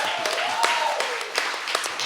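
An audience applauding at a book festival event, a brief steady patter of clapping from a crowd, moderately loud and continuous, with a voice faintly audible over it.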